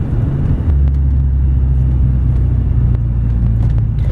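A supercharged 1997 BMW E36 M3 coupe rolls into a lot, its engine giving a loud, close, steady low rumble and drone that holds evenly throughout, with no talking.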